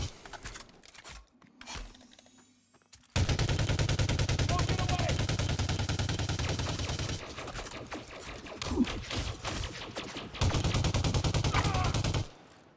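Sustained automatic gunfire in Elite Dangerous: Odyssey during on-foot settlement combat, loud and dense in long bursts with a short pause between them, while a voice talks over it.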